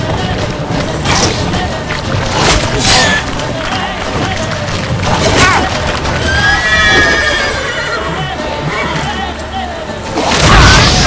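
A horse in The Witcher 3 gives several loud, close whinnies over clip-clopping hooves and game background sounds, and a voice is heard now and then.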